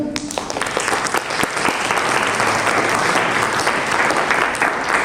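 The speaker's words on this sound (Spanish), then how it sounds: "primero les voy a pedir un aplauso" Applause from an event audience greeting a guest engineer, dense and sustained for the whole stretch, loud and close with no pause.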